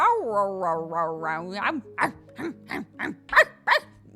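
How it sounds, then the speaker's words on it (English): Peach, a young fluffy white Samoyed, vocalising up close: a drawn-out whining howl gives way to a run of about seven sharp, evenly spaced barks. "Peach is a baby, but she's a fluffy white bark machine"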